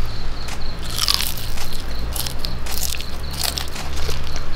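Someone bites into crispy fried chicken, with loud, close crunches and crackles repeating in uneven bursts as they chew, and no talking.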